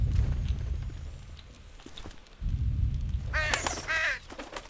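Raven cawing in the video game Condemned, several harsh caws in quick succession standing out clearly over a low rumbling game ambience, preceded by footstep-like thuds.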